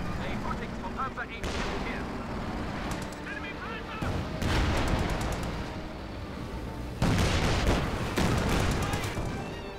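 Infantry gunfire from the Company of Heroes 2 strategy game, dense crackling rifle and machine-gun bursts with booming blasts in a continuous battle din, loud and close, while a commentator talks over it.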